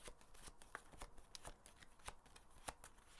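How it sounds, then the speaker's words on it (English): Discard-pile cards from the board game Cooper Island are shuffled in a quick series of soft, rhythmic riffles and slaps, close but faint, with no one talking. "So shuffle the discard pile and put it face down on top of the deck."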